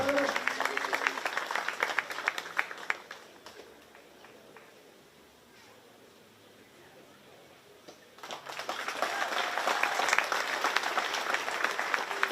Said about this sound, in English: So let's give these young people a big round of applause